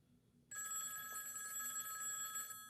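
A telephone bell starts abruptly and rings continuously for about two seconds with a bright metallic trill, then cuts off, fairly clear over a low background hum.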